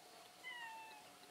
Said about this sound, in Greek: Ένα νέο γατάκι.